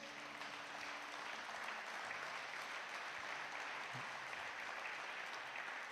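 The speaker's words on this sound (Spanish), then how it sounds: "Dele un fuerte aplauso a Dios" Congregation applauding during a Spanish-language Christian sermon in church, a steady faint wash of clapping held evenly throughout with no voices over it.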